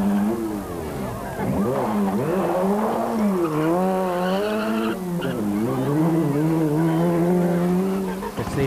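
A 1993 Tipperary stage rally car driven hard, with a lively driver working the transmission roughly: the engine climbs and falls through repeated revving sweeps, loud and continuous for several seconds.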